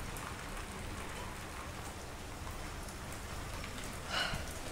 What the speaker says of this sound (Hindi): देखो फुल तेज बारिश, फुल तेज